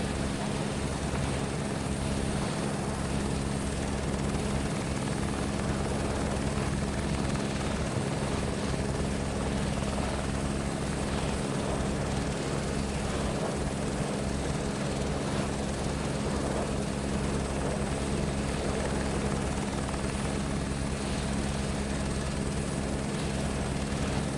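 An Airbus helicopter taxiing in Microsoft Flight Simulator 2024, a steady, loud rotor and turbine drone with a low pulsing thump that continues unchanged throughout.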